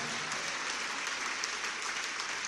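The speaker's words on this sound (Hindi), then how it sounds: "तालियां ज्यादा बजाओगे तो बोली जल्दी बढ़ेगी" An audience at a Jain religious discourse by Muni Sudhasagar applauds during a donation bidding. The clapping is continuous and dense, an even wash heard alone at a moderate distance.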